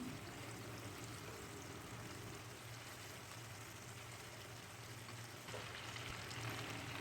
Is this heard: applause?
no